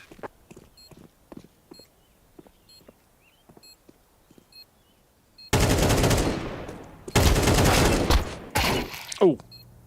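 Grenade blast and gunfire from a Counter-Strike match at the IEM Katowice 2025 esports tournament: faint scattered clicks and steps give way to a loud, sudden burst of blasts and rapid fire, a short gap, then two more heavy volleys.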